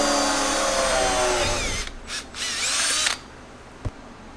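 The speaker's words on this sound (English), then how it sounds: "So now I'm just going to drill this hole." A power drill drills a hole in metal, whining loudly and steadily, then slows and stops, followed by a couple of brief revs and a faint clunk.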